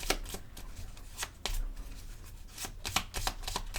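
Tarot cards shuffled by hand, giving a quick run of crisp riffling bursts and soft slaps in an irregular rhythm, close and clear, with no talking.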